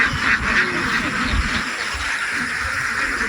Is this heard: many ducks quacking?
yes